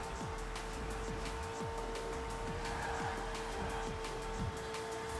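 A McLaren Senna engine in LEGO Forza Speed Champions holds a steady whine while repeated quick revving sweeps rise and fall under it, with no voices.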